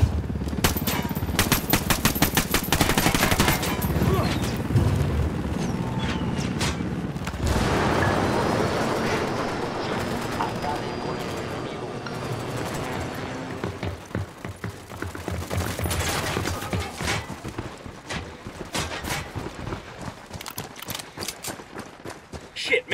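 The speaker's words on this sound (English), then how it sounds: "Fucking Apache's about to fire." An Apache helicopter opens fire in the video game Ghost Recon Wildlands, with dense bursts of loud gunfire and heavy impacts that come and go in waves, while voices talk over the chaos.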